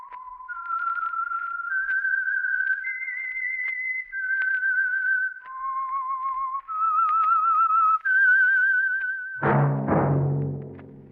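A lone whistler carries a melodic tune, the theme signal of the radio mystery show The Whistler, in clear sustained notes stepping up and down, followed by a swelling orchestral chord at the end.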